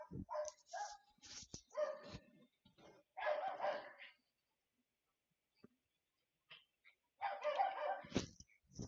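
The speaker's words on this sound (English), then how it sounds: "Every dog in the nearby is barking at the moment." Several dogs barking nearby outdoors in repeated bursts, clustered in a few loud bouts separated by quiet gaps.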